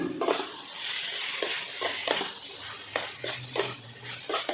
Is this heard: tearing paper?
no